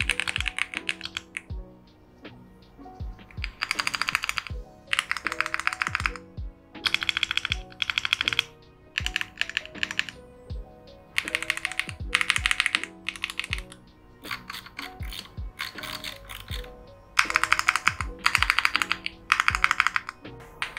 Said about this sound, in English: Here's how the keyboard with Cha Thai switches sounds like out of the box.